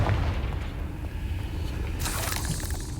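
Confringo fire spell blast in Hogwarts Legacy, a deep rumbling boom that carries on throughout and is capped by a sharp bright burst near the end.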